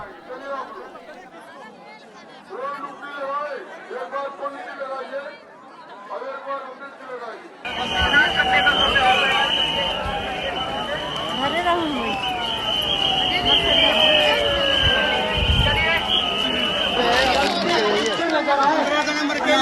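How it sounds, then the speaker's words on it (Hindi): A dense crowd at the Maha Kumbh Mela in Prayagraj on Mauni Amavasya: constant loud babble and shouting, with close voices and whistles rising over a steady roar of people. "आप देख सकते हो कितनी भीड़ थी, बहुत ज़्यादा भीड़ थी ये"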